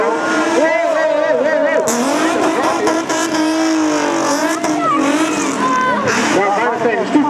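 A race car's engine whines and shifts pitch as it drives past at the Assen circuit in 2011, loud and near, with overlapping engine tones throughout.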